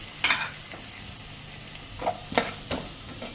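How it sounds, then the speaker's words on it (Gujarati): Ajwain, fennel and turmeric tempering being stirred in a hot pan: soft continuous sizzling of frying spices, broken by a few quick scraping strokes of the spoon, close and with no talk. "અને આ બધું સરસ આપણે મિક્સ કરશું"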